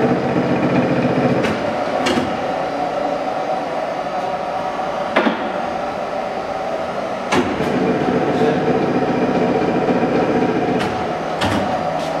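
Vertical jig boring mill running at a 50 RPM feed, a steady mechanical hum and whir with a few sharp clunks and clicks scattered through, close and continuous with no talk.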